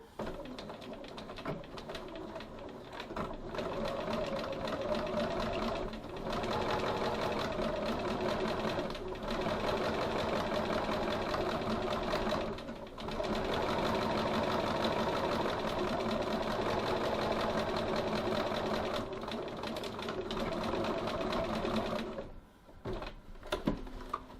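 A sewing machine topstitches a pocket at stitch length 3.1, whirring in long, steady runs broken by short pauses, close and fairly loud.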